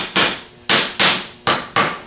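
A hammer tapping on a 37MT starter part during a rebuild, five sharp metallic strikes at an uneven pace, close and loud, each ringing briefly before the next.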